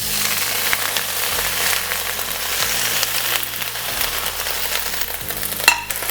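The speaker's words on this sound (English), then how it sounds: "So now I'm gonna add in the greens." Swiss chard greens hit a hot, full wok that already holds softened stalks. A loud, steady sizzle and hiss runs throughout, with a brief sharp clatter near the end.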